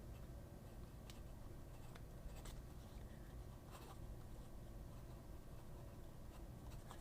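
A pen moves across very smooth paper, making a faint, steady scratching with a few light ticks over a low background hiss. No one speaks.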